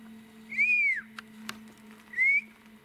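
A person whistles twice, each a short rising-and-falling tone, with a faint steady hum underneath and a couple of light clicks between the whistles.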